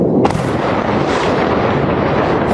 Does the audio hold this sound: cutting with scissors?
no